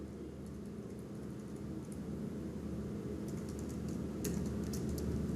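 Quiet, rapid clicking of keys on a computer keyboard, in irregular bursts over a low steady background hum, fairly faint and with no talking.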